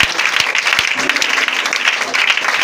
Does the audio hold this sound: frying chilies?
no